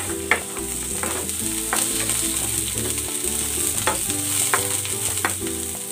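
Garlic dropped into a hot pan for a chicken dish fries with a continuous sizzle and intermittent stirring clicks, heard beneath background music.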